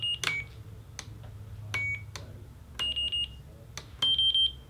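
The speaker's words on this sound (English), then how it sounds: "Ooh, I like it. Low and high beeps." Short electronic beeps from a Taranis Q X7 radio transmitter sound in a pattern, some lower and some higher in pitch, separated by clicks and a faint background hum.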